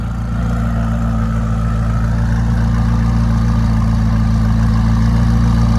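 A 2017 McLaren 570S's exhaust idles with a deep, steady rumble, loud and close, a constant low drone with no revving or change in pitch.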